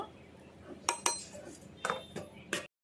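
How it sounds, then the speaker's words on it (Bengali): A metal lid clinks and rattles onto a pan of cooking dhenki greens with a little water, several sharp close metallic clanks spaced over a couple of seconds. "ঢাকনা দিয়ে দু থেকে তিন মিনিট আমি ঢেকে দেব"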